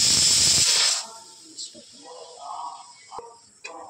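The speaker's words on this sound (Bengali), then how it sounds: "এই যে গ্যাসটা জ্বালিয়ে দিলাম।" A gas stove burner is lit for frying fish in mustard oil, giving a loud, steady hiss for about a second before it drops off, followed by quieter kitchen sounds and some speech.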